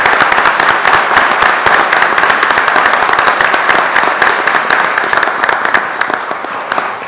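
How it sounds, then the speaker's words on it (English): Sustained, full applause from the audience at a school board meeting, many hands clapping loudly and continuously, slowly thinning near the end. "I would offer a round of applause"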